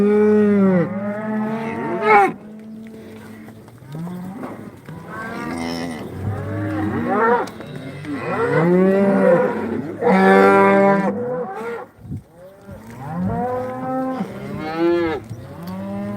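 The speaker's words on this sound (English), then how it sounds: "Two calves." Two calves moo repeatedly at close range, loud harmonic bawls overlapping one another across the whole stretch with only brief gaps, on a ranch during a roundup to doctor pinkeye.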